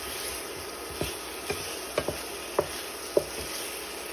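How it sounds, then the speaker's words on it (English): Seasoned pepper snail being stirred in a pot, a spoon giving about six soft clinks and scrapes at an unhurried pace over a faint low sizzle, close by with no voices. "I'm just gonna mix that in so it absorbs all of the season and pepper."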